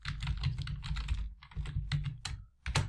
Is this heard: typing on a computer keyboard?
yes